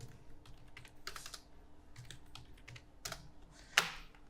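Light typing on a computer keyboard: a handful of soft, irregular keystrokes with short pauses, ending in one sharper tap, close and quiet.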